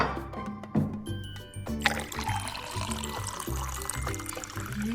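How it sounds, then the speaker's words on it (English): Water is poured into a container for a candle trick, a steady trickling and gurgling pour heard close beside a low background hum. "So first we're going to pour some water into the container."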